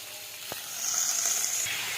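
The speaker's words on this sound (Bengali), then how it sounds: "তেলের মধ্যে আমি পেঁয়াজটা দিয়ে দিয়েছি। এবার সবজিগুলো দিয়ে দেব।" Onion and vegetables fry in hot oil, giving a bright sizzling hiss that swells partway through, with a brief clink near the start and no talking.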